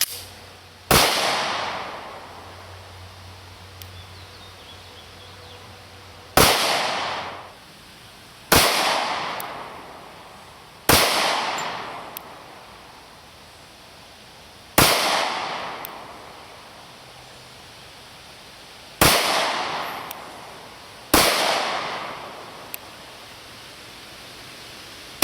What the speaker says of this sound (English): we just shot the Springfield Armory 1911 Micro Compact in 45 auto